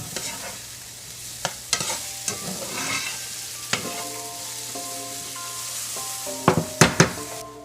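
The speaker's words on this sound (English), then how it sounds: "we're just going to saute these" Mushrooms and garlic sizzle steadily in a hot pan, with scattered sharp knocks and scrapes of a utensil stirring them, close and unaccompanied by voices.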